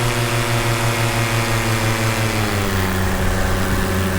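A large paramotor engine driving an E-prop propeller, a loud steady mechanical drone with strong harmonic tones that shift slightly upward as it revs, heard up close without speech.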